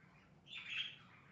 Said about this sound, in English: my birds are not cooperating. They're talking despite the fact that I have a cover over them.